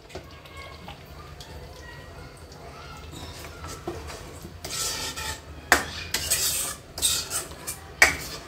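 Tamarind pulp goes into a pan of frying mutton masala for Hyderabadi mahi khalya, bringing a soft rasping stir and a few sharp sizzling bursts of spatula scraping near the end over a faint background hum.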